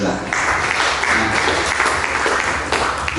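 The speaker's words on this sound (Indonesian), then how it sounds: "tepuk tangan dulu buat Reza" A roomful of people applauds Reza, a dense, steady patter of clapping lasting a few seconds with voices mixed faintly underneath.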